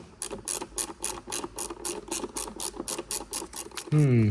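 Screw being driven into the front mudguard of a 2021-2026 Hyundai Tucson NX4, giving a close, rhythmic ratcheting click repeated steadily, with a brief louder tonal sweep at the very end.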